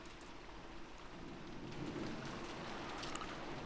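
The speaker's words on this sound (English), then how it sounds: "It was still raining." Rain ambience from the Umineko visual novel video game: a steady, dense hiss of falling rain with a low rumbling undertone, continuous and unbroken throughout.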